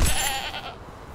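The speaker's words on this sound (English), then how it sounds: "There's a goat behind you." A single short goat bleat in the Conan Exiles video game, loud and close, fading quickly into quiet.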